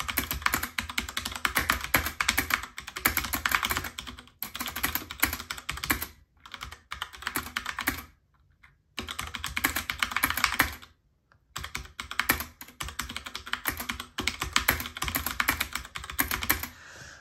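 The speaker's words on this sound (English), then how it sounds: "I'm just gonna type words" Rapid, continuous typing on a Freewrite keyboard, with a dense clatter of close key taps in long bursts broken by a few brief pauses of silence.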